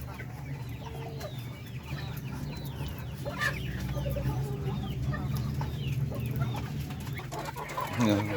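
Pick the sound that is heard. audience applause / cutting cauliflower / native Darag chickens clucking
native Darag chickens clucking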